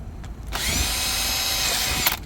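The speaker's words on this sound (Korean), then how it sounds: "이렇게 구멍을 뚫어서 사용을 하시면" A power drill whines loudly and steadily for about a second and a half as it bores ventilation holes, close up and alone, with short mechanical clicks at start and finish.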